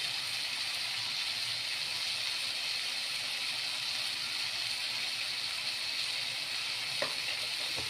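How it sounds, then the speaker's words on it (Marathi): Green chillies frying in a pan for a garlic tomato chutney, with a steady, dense sizzle and hiss that lasts throughout, close and loud, plus one faint clink near the end. "आता यामध्ये मी हिरव्या मिरच्या टाकणार आहे"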